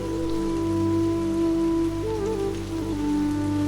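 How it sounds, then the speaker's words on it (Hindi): Rain falls steadily with a soft patter of raindrops, blended under a sustained, humming musical drone for a calm guided relaxation, even in loudness throughout. "वर्षा हो रही है, चारों तरफ हरियाली छाई है, टिप टिप बूंदें आपके कानों में जो आवाज़ उत्पन्न कर रही है उसकी आवाज़ बढ़ रही है"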